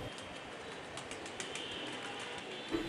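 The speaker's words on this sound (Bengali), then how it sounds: "এই বাড়ির বেশ কিছুটা দূর থেকেই শোনা যায় কবুতরের বাকবাকুম।" Soft pigeon cooing murmurs faintly over a steady background hiss, several birds calling in a low, rolling rhythm.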